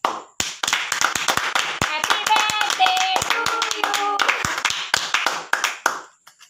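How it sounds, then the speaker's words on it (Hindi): Family members clap along at a child's birthday party at home, sharp uneven hand claps and taps mixed with excited voices and a bit of singing, close and fairly loud throughout. "जोर से ताली बजाओ"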